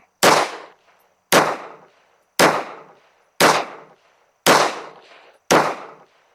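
A Walther P38 pistol fires 115 grain Armscore rounds, giving six loud, sharp shots spaced about a second apart, each ending in a short decaying echo, with no voices.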